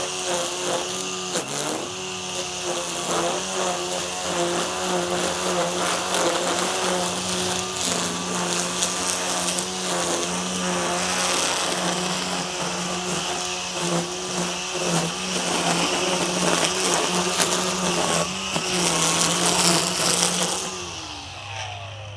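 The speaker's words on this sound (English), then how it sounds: "I gotta say that I do really like this trimmer" An Ego 56v battery string trimmer whines loud and steady at close range while cutting along a chainlink fence. The high motor tone runs unbroken for about twenty seconds and then quickly winds down at the end.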